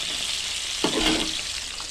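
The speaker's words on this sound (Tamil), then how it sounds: "இப்போ கொஞ்சம் நேரம் வறுத்துக்கிட்டு இருக்கோம்" Jalebi fish, a tilapia, frying in a pan, a steady close sizzle with a brief burst of louder crackling partway through.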